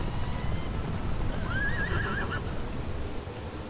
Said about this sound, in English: Bring me my horse!